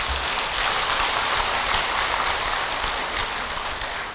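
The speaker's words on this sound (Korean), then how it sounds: "이 불자한테 한번 박수 한번 보내주세요" Applause from an audience at a Buddhist winter solstice dharma service, greeting a devotee. Dense, steady clapping fills the whole stretch at even loudness with no voices over it.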